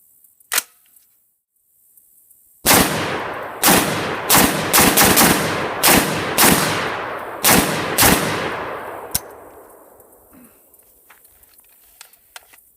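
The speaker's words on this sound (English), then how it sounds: "I've got 10 rounds loaded in the P-mag, and let's just see if this is going to work." An Adams Arms small-frame .308 piston-driven patrol rifle fires ten rounds from a P-mag in a quick, uneven string of loud, sharp reports that ring out and decay outdoors, with no talking.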